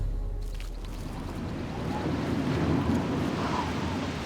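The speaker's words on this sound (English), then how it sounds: "Very, very windy day." Strong wind on a very windy day makes a constant broad roar that swells slightly in the middle, loud and unbroken, with no speech heard over it.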